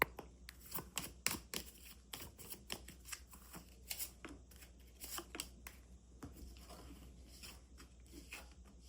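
A deck of tarot cards is shuffled by hand up close, making quiet, crisp flicks and riffling rustles in uneven bursts with short pauses between them. No one speaks.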